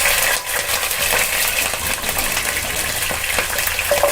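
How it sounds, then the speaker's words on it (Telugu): Green chilies hit hot oil in a pan and set off a loud, continuous crackling sizzle that holds steady the whole time, with no one speaking. "ఇప్పుడు ఆయిల్ హీట్ అయింది, ఇందులో వేసుకోవాలి."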